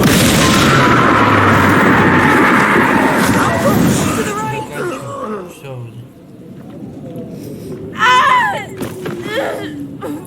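A Bombarda spell explodes in the Hogwarts Legacy video game, giving a loud, sustained rumbling blast that fades over several seconds. Shorter bursts and game effects follow, and a voice is heard.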